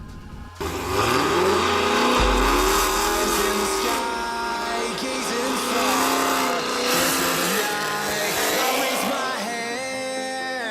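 A Dodge Redeye on drag radial tyres accelerates hard, its engine climbing through the revs in a steady, loud pull, mixed with music playing throughout.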